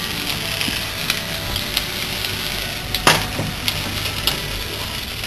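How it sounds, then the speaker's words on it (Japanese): Flour-dusted marinated chicken frying over low heat in garlic-scented oil in a pot gives off a steady crackling sizzle, with a few sharp clicks and one louder scrape partway through. "これを同じ鍋で焼いちゃいます"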